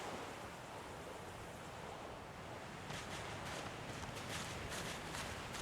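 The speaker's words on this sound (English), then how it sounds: "The woman looks out on the gently lapping waves." Gently lapping ocean waves in the video game Divinity Original Sin 2, a continuous soft wash of surf with faint rustling textures and no voices.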